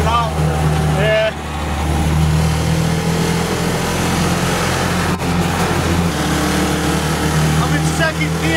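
A Ranger truck with a 6.5 HP Predator engine drives in second gear, its small engine droning steadily and loud throughout with a shifting pitch, and wind rumble from the moving vehicle underneath.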